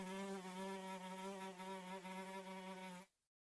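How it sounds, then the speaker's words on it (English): A housefly buzzes steadily and close in Minecraft, a continuous droning hum that holds for about three seconds and then stops abruptly, with no talk over it. "No, it's a fly."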